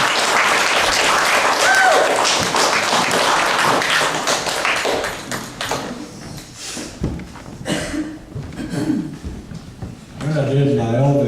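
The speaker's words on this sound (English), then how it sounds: "So just give it a nice applause" Loud, dense applause from a club audience welcoming a performer fills the first few seconds, then thins out and fades as a voice starts talking over the last scattered claps.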